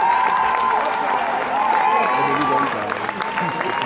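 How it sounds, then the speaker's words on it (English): A crowd at a ballroom vogue ball applauds and cheers, a continuous blur of clapping with scattered whoops, steady in level, while a voice speaks over it. "give him a round of applause"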